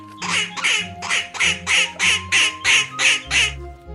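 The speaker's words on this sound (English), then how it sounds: "It's a duck!" A duck at a pond calls in a rhythmic run of about ten loud, evenly spaced nasal quacks, close by and alone.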